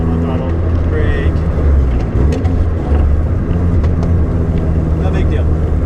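Car engine rumbling steadily while the driver brakes and works the clutch, with low drivetrain drone and a brief dip as the clutch is shifted, under ongoing talk.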